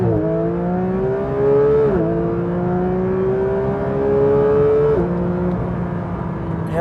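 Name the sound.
Porsche 992 GT3 launch control acceleration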